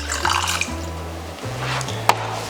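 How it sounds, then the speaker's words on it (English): Water poured into a pot of honey while making a simple syrup, a steady liquid trickle with a shifting low tone as the vessel fills, and a brief clink near the end. "And we'll top that up with 100 grams of some water."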